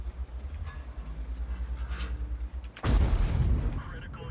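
A 120 mm tank cannon fires an HE shell in the World of Tanks video game, one sudden loud boom with a rumbling tail after a stretch of steady engine drone.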